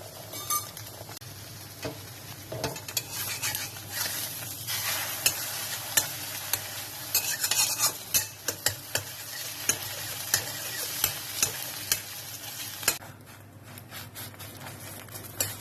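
Eggs scrambled and stirred in a frying pan for chicken egg chowmein, a steady sizzle broken by repeated sharp clinks and scrapes of a utensil against the pan, close and without talk, easing near the end.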